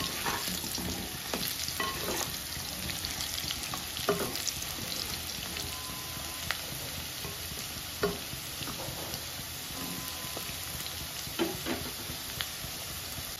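Potatoes frying in oil for spicy aloo dum, a constant dense sizzle with occasional clicks and pops of stirring throughout, no speech.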